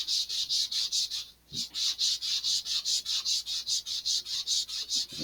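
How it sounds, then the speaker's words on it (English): Fin of an Estes Black Brant XII model rocket being sanded with steady back-and-forth strokes, a close, even rasping rhythm with one brief pause. "Sand away."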